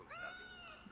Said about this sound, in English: Hear a cat out there.